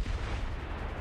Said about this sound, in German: Deswegen feuere ich jetzt auf den Kaiser.